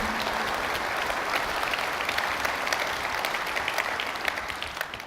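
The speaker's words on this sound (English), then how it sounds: "Please can I ask for a round of applause in appreciation of their very significant efforts over that time." A conference audience at a road freight industry event gives a steady, full round of applause, dense and sustained for about five seconds before tapering slightly at the end.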